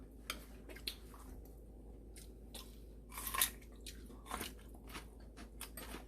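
Pine nuts being chewed at home, a series of faint, close crunches and soft bites at irregular intervals over quiet background hum, with no talking.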